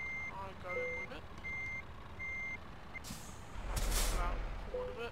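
A lorry's reversing alarm in the Euro Truck Simulator 2 video game beeps in a steady repeating pattern, followed by a loud hiss of air brakes, over low engine rumble.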